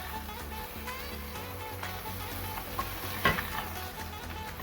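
Sea bass sizzles steadily in a frying pan as it is lifted out, a soft continuous crackle with a brief scrape of a utensil partway through and no talking.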